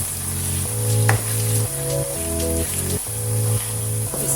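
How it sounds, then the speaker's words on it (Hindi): Potatoes being added to spinach already frying in a pan, a steady hiss of sizzling oil under background music with a few light clinks. "हमारी पालक की भुनाई हो गई है। अब हम इसमें आलू ऐड कर लेंगे।"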